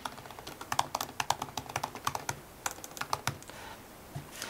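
Quick, crisp keystrokes on a computer keyboard fall in uneven bursts as information is entered, close and clear over a quiet background, with no speech.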